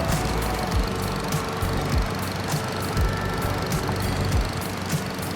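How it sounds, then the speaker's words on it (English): A tractor mowing a yard in Farming Simulator 22, a steady engine drone with a repeating rhythmic thump roughly every second, loud and close with no talking. "And we are just about done mowing our yard."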